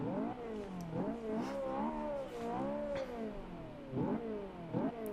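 A 2009 Ferrari 458 Italia engine starts and revs in the video game Forza 5, loud repeated throttle blips rising and falling in pitch over a few seconds, alone with no talk.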